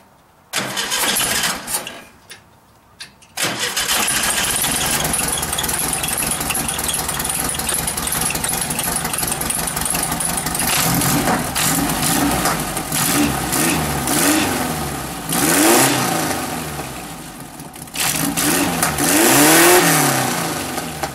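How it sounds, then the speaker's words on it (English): A VW-powered sandrail's engine cranks, catches and starts, then idles loudly and revs up in several bursts, close and alone with no talking. "if we turn the key, it should start right up"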